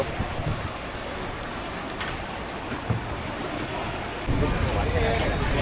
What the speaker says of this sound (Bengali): পানির স্রোত দেখছো